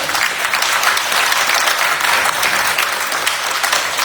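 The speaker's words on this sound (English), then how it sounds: "I would like for y'all to give her a round of applause." Audience at a county GOP candidate forum applauding, a dense, loud, sustained clapping that fills the whole stretch without pause.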